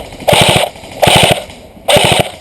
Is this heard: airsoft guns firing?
yes